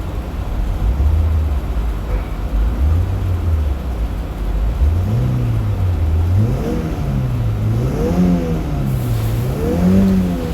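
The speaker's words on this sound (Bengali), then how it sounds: "দেখতে পাচ্ছেন হালকা রেস ধরতেছে আর ইঞ্জিনের মোশনটা দেখতে পাচ্ছেন আপনারা কীরকম পাওয়ার বাড়তেছে" A Toyota Hiace engine with a pickup problem, idling with the air conditioning on, is revved several times in quick succession. Each rev rises and falls clearly and loudly over a steady idle, and no one speaks.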